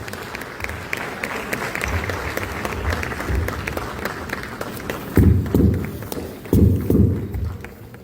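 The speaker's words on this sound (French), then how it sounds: "Il est permis de les applaudir," Wedding guests applauding at a reception hall, steady clapping from a crowd with heavy footsteps and thumps of people moving nearby.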